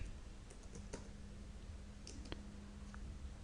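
A computer keyboard is typed on while entering a DOS command-line instruction: a few faint, scattered key clicks over low background hiss, with no talk.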